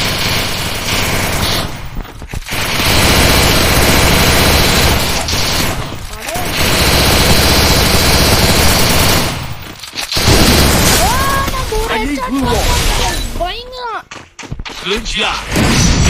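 Loud, dense bursts of rapid gunfire and booming explosions from the shooting game Free Fire come in long sustained volleys, with short pauses and warbling effects between them.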